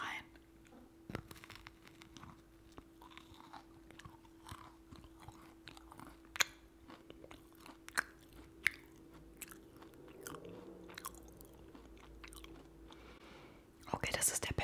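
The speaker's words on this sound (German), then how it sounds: "Okay, wir beißen rein." Gingerbread is bitten into and chewed close to the microphone, with soft crunches and wet chewing clicks at a quiet level, plus a louder rustle near the end.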